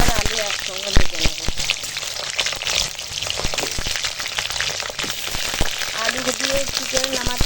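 Pointed gourd (potol) frying in hot oil over a wood fire, a continuous close crackling sizzle with scattered pops, and a voice briefly heard near the end.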